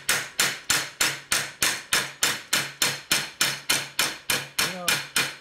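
A hammer strikes parts of a Harley-Davidson Shovelhead FL/FX clutch during installation, with about fourteen sharp, loud, evenly spaced metallic blows in a steady rhythm and a brief voice near the end.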